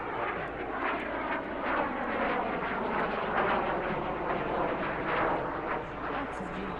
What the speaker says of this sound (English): as the sound of a Rolls-Royce Viper turbojet fills the air